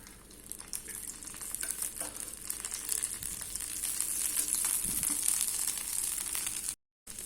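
A Ceylon-style egg dosa fries on a pan with a little oil added around it, making a steady, fairly quiet sizzle with light crackles and an occasional scrape.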